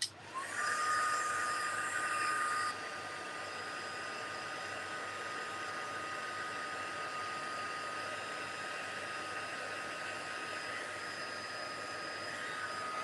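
A heat tool dries a scrapbooking craft project with a steady whirring blow that runs louder for about three seconds, then drops a little and holds level without a break.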